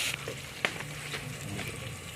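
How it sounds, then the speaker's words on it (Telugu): Sliced onion frying in a hot pan, giving a steady close sizzle with a couple of sharp pops and crackles. "ఉల్లిపాయ వేస్తున్నాను"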